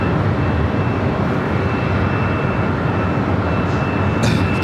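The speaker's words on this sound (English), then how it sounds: "this is Hawaiian Flight 9, the flight heading back to Honolulu" Loud, steady jet roar from a Hawaiian Airlines Airbus A330-200 at LAX, a dense rumbling engine wash with a thin high whine running throughout, close and unbroken, no voices.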